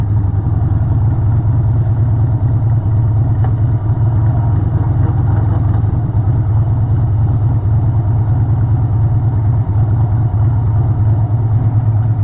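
A faulty Harley motorcycle engine runs steadily and loudly, a constant low throbbing drone close by with no talking over it.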